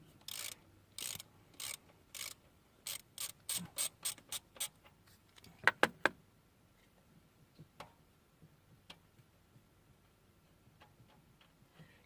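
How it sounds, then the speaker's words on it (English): A ratchet with a 3/4 inch socket loosens a banjo bolt on a Cummins diesel fuel line, giving bursts of crisp pawl clicks, a sharper crack as the bolt breaks free, then scattered faint ticks. "You want to place it on top of your tube here, where your banjo bolt is, and break that loose."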